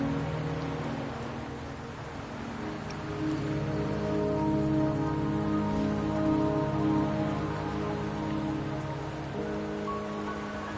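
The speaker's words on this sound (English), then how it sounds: "Don't worry, the rain won't last much longer." Steady rain falls in the video game Wuthering Waves, a dense even patter of drops on surfaces with a soft hiss beneath, continuous and moderately close, no voices over it.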